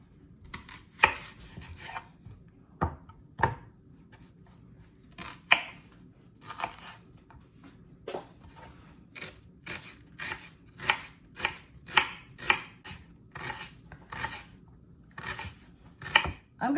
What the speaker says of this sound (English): So I will also need to chop the onion.